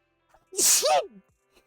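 A single sharp sneeze, close and loud, with a short breath before it and a brief voiced tail after, otherwise near silence.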